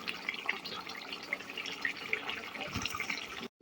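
Water is poured into a simmering fish curry, making a faint, steady splashing trickle that lasts a few seconds before cutting off.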